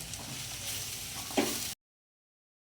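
Potatoes and spices fry in a pan with a soft continuous sizzle and light scraping from stirring, one brief louder scrape near the end, before the sound cuts to silence.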